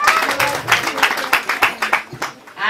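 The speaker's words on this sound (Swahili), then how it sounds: "Wazazi piga watoto wenu makofi ukweli" Parents at a school graduation ceremony clap in bursts of scattered applause, loud and near, with a voice speaking over the clapping.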